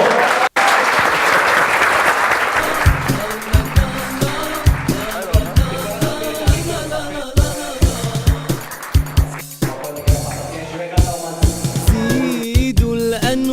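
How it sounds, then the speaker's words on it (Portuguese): Wedding guests applaud the couple, loud sustained clapping from a crowd that gives way to rhythmic hand-clapping along with music. "Uma salva de palmas para eles, por favor."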